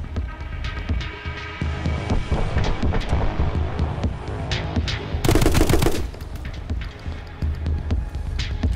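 Dense, sustained automatic gunfire from the side-scrolling shooter My Friend Pedro rattles continuously under throbbing game music and effects, with a brief louder burst of rapid shots midway.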